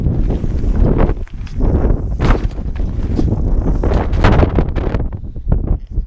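Strong, gusty wind on a hilltop buffets the microphone in loud, continuous roaring blasts with brief lulls, harsh and close throughout.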